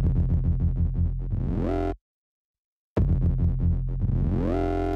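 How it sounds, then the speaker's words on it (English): A heavily effected drum loop through the Waves Berzerk distortion plugin whose pitch sweeps downward in a slow dive, cuts to silence, then repeats the same falling dive-bomb sweep. "keep the speed slow so we get that exaggerated dive bomb type effect"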